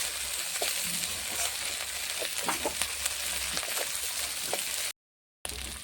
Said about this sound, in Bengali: ভালো করে তাকে কষে নেব।